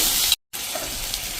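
Green peas fry in a hot tempering of spices while being stirred, a steady loud sizzle broken by a short silent gap, then resuming with faint scraping of the spoon.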